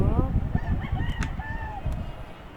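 Young roosters and hens (stags and pullets) kept at a farm, several birds calling and clucking with short crowing bursts over a steady background of low rustling noise.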